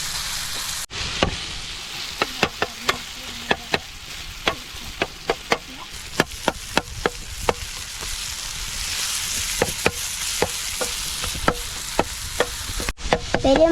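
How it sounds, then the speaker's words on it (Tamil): Goat testicles fry in a pan for a South Indian tawa gravy, with a steady sizzle under repeated sharp clacks of a spatula that strikes and scrapes the pan in irregular bursts. "கொட்டையை சேர்த்துட்டு பார்த்து கிண்டிக்கலாம்."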